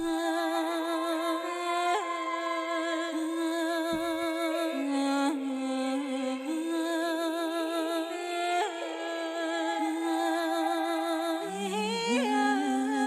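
A sung vocal sample's top notes drift through sustained high phrases, heavily washed in reverb so each phrase blurs into a long, airy tail.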